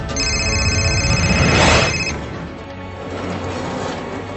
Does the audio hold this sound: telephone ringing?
yes